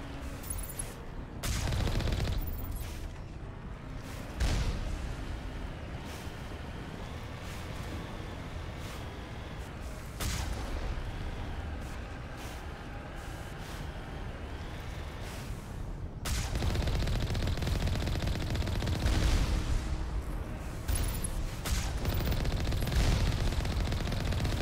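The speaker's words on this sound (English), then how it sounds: "I didn't realize these guys had fucking machine gun rocket launchers" Enemies fire machine-gun rocket launchers in Mass Effect, producing long stretches of rapid, loud automatic fire and booming blasts that swell and recede in waves, with a particularly dense, heavy barrage toward the end.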